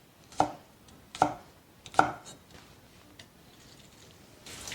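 A knife chops ginger, scallion and garlic into slices on a cutting board, with three distinct thuds followed by a few lighter taps, close and clear with no talking.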